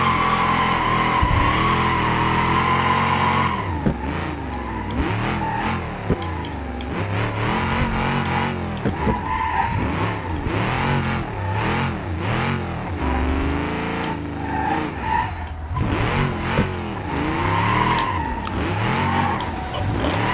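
A classic muscle car with a drift-spec setup in the BeamNG driving game revs hard while its tires squeal and skid in long sliding bursts, with engine pitch rising and falling throughout and no talking.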